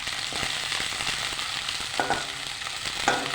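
Green chillies frying in a pan for a simple okra and tomato curry, giving a steady, close sizzle with faint crackles and a couple of brief utensil clinks.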